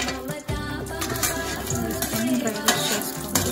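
Cashew nuts roast in hot ghee in a pan, giving a soft sizzle, with stirring scrapes and light clatter against the pan throughout.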